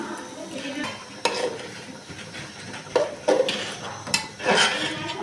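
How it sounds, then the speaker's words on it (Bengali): Fish and boiled lentils being sautéed in a pan give a steady hissing sizzle broken by several clanks and scrapes of a spoon against the pan, close and moderately loud, with no speech. "ডালের সঙ্গে মাছটা আর একটু কষায় নেব"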